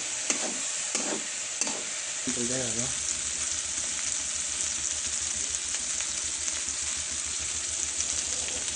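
Chicken curry masala frying in oil in a home kitchen, a steady broad sizzle running throughout, with a few scraping stirs near the start and a brief faint voice-like tone under the hiss.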